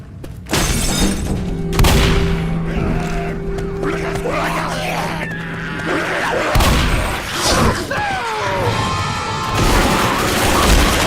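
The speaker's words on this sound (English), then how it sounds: "Molotov!" A molotov explosion in the video game Rainbow Six Siege bursts with a shattering glass crash early on, followed by loud roaring fire and crackling debris that persist throughout.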